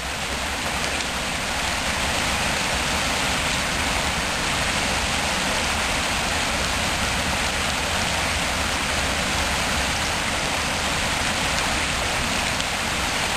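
Steady, dense rush of creek water flowing past a big log lying across the stream, a continuous broadband wash held at an even level throughout with no voices.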